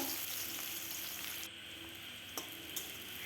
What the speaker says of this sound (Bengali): পেঁয়াজটাকে বেশ কিছুক্ষণ সময় ধরে ভেজে নেব যতক্ষণ লাল লাল কালার চলে না আসে ততক্ষণ আমি ভাজতেই থাকবো